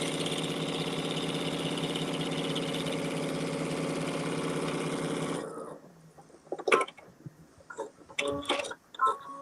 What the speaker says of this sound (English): So we're actually sewing an X twice.